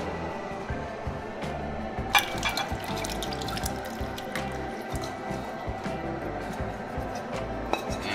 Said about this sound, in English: So now I'm going to go ahead and pour it over into this bowl.